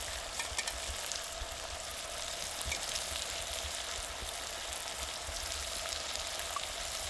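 Soaked chana dal sizzles and fries steadily in hot oil in a pan, a continuous close, even crackle with no talking.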